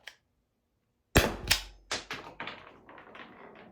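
A Byrna LE launcher fires a single sharp, loud shot up close, followed by several quieter clattering taps and bounces trailing off.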